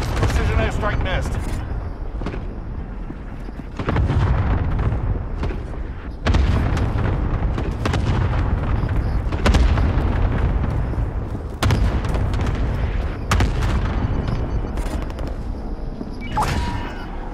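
Precision airstrike explosions in Call of Duty: Modern Warfare boom repeatedly, heavy blasts and rumbling gunfire rolling in waves over several seconds, loud and close, with a player talking over the battle.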